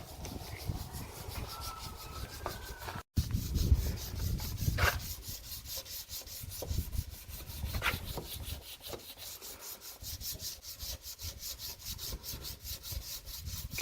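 An abrasive number 1 pad scrubs a foggy car headlight by hand, making a continuous rough rubbing with rhythmic back-and-forth strokes, close and fairly quiet, with one brief pause early on.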